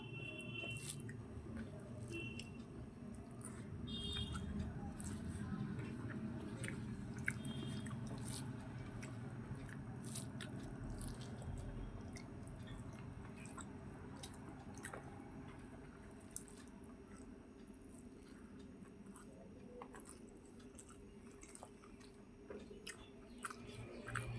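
Someone eats hilsa fish curry with rice, with soft, wet chewing and squishing close by, punctuated by small clicks and drips over a faint room hum, with no talking, sustained for the whole stretch.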